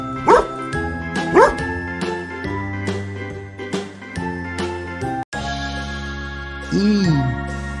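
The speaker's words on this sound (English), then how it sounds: "Nice dog." A dog gives a couple of short barks over light, jingly background music, followed by a softer whimpering yip near the end.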